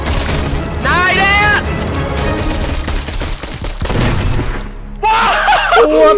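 Grenade blasts and gunfire in a VR shooter game, with sharp booms and crackling shots over continuous excited chatter between players.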